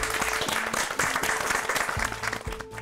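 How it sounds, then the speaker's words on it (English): Cooking show contestants clap together after a celebration dessert round, a dense close burst of applause with some faint tones and low thumps mixed in, and no talking. "Give yourselves a round of applause."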